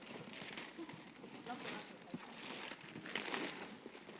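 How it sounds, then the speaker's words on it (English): Wrapping paper crinkles and tears as children unwrap presents at home, a busy run of close rustling and crumpling bursts with voices chattering over it. "you guys can now unwrap your presents"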